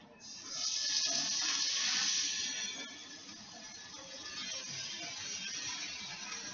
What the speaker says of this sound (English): So this is where I wash my hands again.